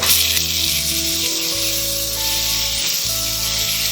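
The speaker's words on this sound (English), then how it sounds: "Now I'm going to add the cut tomatoes." Cut tomatoes go into a hot pan with ginger garlic paste for chicken biryani, setting off a loud, dense, continuous sizzle with a faint hum beneath.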